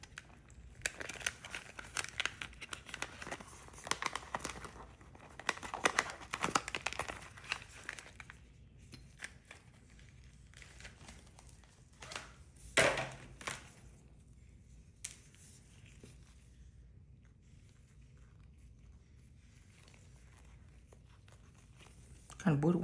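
Cosmetic scissors snip and crinkle through a paper towel while two small squares are cut out. The soft, close cutting and rustling comes in short bursts between quiet pauses.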